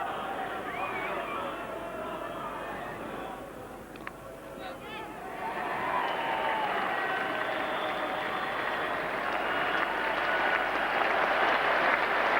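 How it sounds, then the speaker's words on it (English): A large cricket crowd at an England versus West Indies test match in 1991 breaks into sustained applause and cheering, swelling and continuing under a commentator's voice. "that brings a big cheer from the quite big crowd still remaining here"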